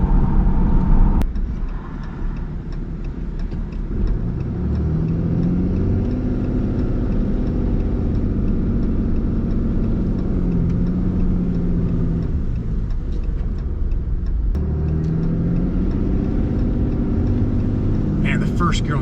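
A RAM 3500 pickup truck's engine drones steadily in first gear while towing a wide load, a close, continuous low rumble under someone talking throughout.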